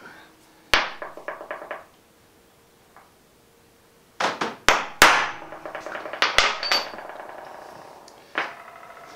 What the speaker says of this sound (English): all I've done is put a punch mark there, the centre punch